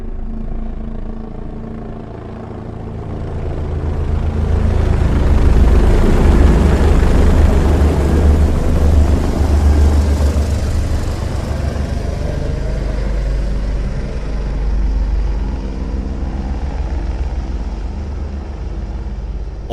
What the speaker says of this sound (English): helicopters will slowly creep up from the back of the theater. Close your eyes and feel them fly overhead.